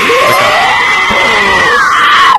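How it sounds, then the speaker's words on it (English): A person lets out a long, loud scream while inhaling, a strained rising-then-falling shriek held steadily for over two seconds with a sharp catch at the end. "Inhale and scream at the same time"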